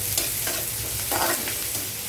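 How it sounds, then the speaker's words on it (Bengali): Onion frying in a pan with salt, turmeric and ground cumin-pepper spice while making aloo paratha, a loud continuous sizzle close by, broken by soft stirring scrapes. "এই যে পেঁয়াজ ভাজা হচ্ছে।"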